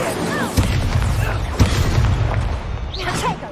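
Incendio fire spell being cast in Hogwarts Legacy, a few heavy booming bursts with whooshing swells, close and loud over a busy background.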